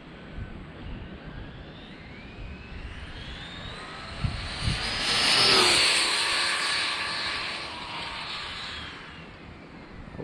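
An XTM XT2e RC car fitted with a new motor makes a speed pass, its electric whine rising in pitch as it approaches, peaking in a loud close sweep, then fading as it moves away.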